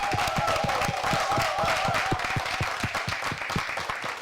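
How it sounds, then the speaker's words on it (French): A studio audience on a Burkinabè television talk show claps in a loud, close burst, individual hand claps distinct and rhythmic over a steady background hum. "Donc ça s'applaudit."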